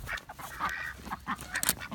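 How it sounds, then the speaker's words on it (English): Ducks in a backyard garden give several short honking quacks at close range, irregular and overlapping over a quiet outdoor background. "Duck's been playing in the garden."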